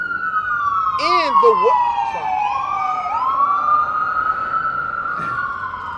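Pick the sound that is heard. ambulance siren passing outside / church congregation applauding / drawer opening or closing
ambulance siren passing outside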